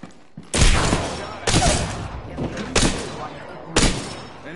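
Gunfire in the video game Apex Legends: several loud, close bursts of rapid automatic fire, each about a second long with short gaps, over a noisy game background.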